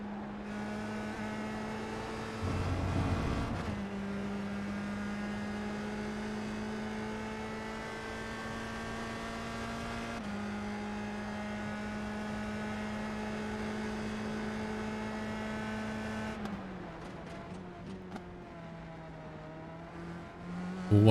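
Open wheel race car in a sim racing game at Summit Point on a qualifying lap, a sustained high engine whine holding steady with short shifts and a revving change near the end, loud and without talk.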